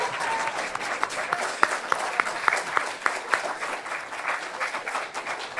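Audience applause at a political debate, a steady wash of many hands clapping with a few sharper claps standing out, moderately loud and continuous with no speech over it.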